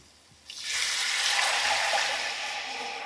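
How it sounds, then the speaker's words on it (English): Leftover beef broth pours steadily into a pan, a sudden start followed by a continuous, close liquid rush and splash that eases off slightly toward the end. "Next, you're gonna add the beef broth"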